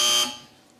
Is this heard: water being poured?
no